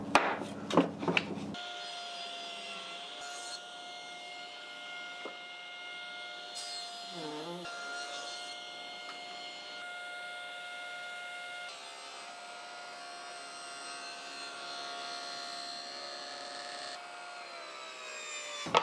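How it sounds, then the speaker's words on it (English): A table saw fitted with a combination blade rips cherry wood, a sustained close whining motor tone with steady cutting noise under it, opening with a few sharp knocks as the cut begins. "This is a combination blade that might be too deep a cut to start with."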